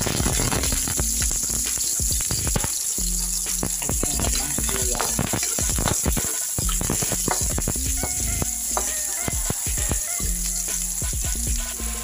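Onion sautés in hot oil in a pan for Filipino salmon sinigang, giving a steady loud sizzle with crackling pops throughout.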